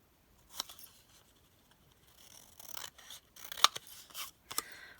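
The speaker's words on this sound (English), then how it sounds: "And we'll just rough cut that out," Scissors rough-cut through paper in a series of close, crisp snips and rustling strokes, with quiet gaps between cuts and no talking.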